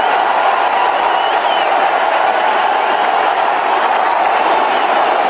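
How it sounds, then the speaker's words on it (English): A large cricket crowd keeps up a steady, dense roar of applause and cheering for Virat Kohli's century at a One Day International between India and New Zealand. "Take in the crowd's applause."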